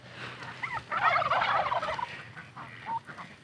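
Chickens cluck and gobble-like calls rise in a busy flurry, close by, with scattered softer clucks before and after.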